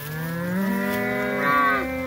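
Cattle in a cocklebur field give a long, drawn-out moo that rises and falls, then swells again near the end, close and clear with no voices.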